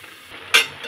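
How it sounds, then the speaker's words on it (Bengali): Cabbage curry is stirred in a hot pan, a soft sizzle under a single sharp scrape of the spoon midway, brief and close. "এখন একটু নেড়ে দেবো।"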